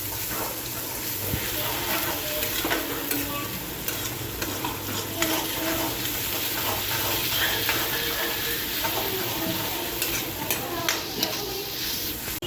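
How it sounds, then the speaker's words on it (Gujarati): Corn and onion sizzling in hot oil in a pan, a steady crackling fry with scattered stirring clinks and scrapes throughout. "હવે આપણે આને થોડીક વાર તેલમાં સરવા દઈશું"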